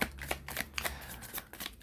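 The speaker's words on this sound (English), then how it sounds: "This is a good shuffle." Tarot cards being shuffled by hand, a quick run of crisp riffling and flapping bursts close up, with no talk over them.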